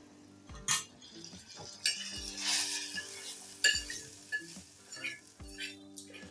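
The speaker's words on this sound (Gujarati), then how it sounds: "તો હવે આપણે એને દાળની અંદર નાખી દઈશું" Hot Gujarati tempering poured into cooked urad dal, with soft sizzling and repeated clinks and scrapes of a metal spoon against the pot, spread through the few seconds with no talking.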